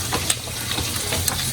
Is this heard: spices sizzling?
yes